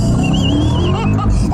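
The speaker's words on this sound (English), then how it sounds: "Let's do a burnout." Car doing a burnout, a loud continuous engine roar with squealing tire noise sustained close up throughout, dense and unbroken.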